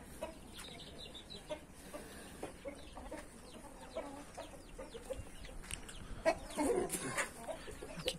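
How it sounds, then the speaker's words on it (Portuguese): A borrowed hen in a backyard coop clucking quietly at intervals, with fainter fowl calls and scattered noises around, growing a little louder toward the end. "Vamos ver se essa galinha vai botar esse ano."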